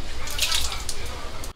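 Tap water runs steadily over pork knuckles being rinsed in a sink, a continuous close splashing trickle with faint background voices.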